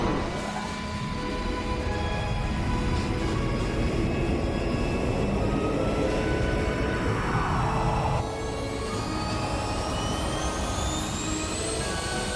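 Steady, loud rumbling drone of a moving train in the video game Phantasy Star Universe, with a continuous engine-like roar and high whining tones that shift partway through, no voices.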